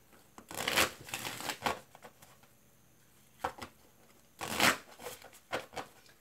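Moonology oracle deck cards shuffled by hand in short bursts of papery riffling and sliding, with quiet pauses between, close and soft, no talking.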